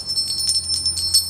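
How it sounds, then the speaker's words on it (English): Small bells on a Tree of Life wind chime with beads tinkle softly and repeatedly, bright high chiming notes ringing in quick, uneven succession. "listen to these little bells go."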